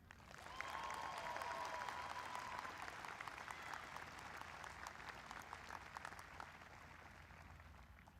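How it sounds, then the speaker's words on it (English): Steady, even applause fills a high school graduation ceremony for the North Paulding High School class of 2025, a broad audience clapping continuously and fairly faintly at a distance for around eight seconds. "let's give a round of applause to North Paulding High School's Salutatorian for the class of 2025, Seth Aber."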